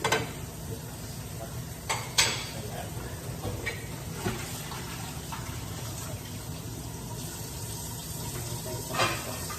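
Tap water runs steadily at a kitchen sink while dishes are washed, a soft, continuous hiss with occasional clinks and knocks of plates near the start and near the end.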